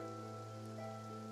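Steady rain falls in Fontaine in the video game Genshin Impact, a continuous soft patter layered over sustained tonal ambient music, with no voices.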